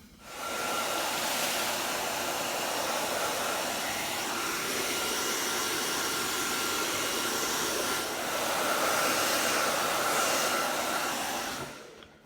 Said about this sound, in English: I'm going to use the hairdryer again.